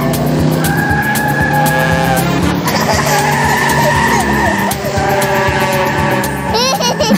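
Cartoon car skids and screeches in a loud, continuous burst of tire squeal and engine whine, with wobbling pitch sweeps and comic effects layered over a steady music bed, and no talking over it.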